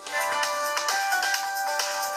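A telephone rings with a steady electronic tone in a bright, continuous melodic pattern, loud and close, with no talk over it.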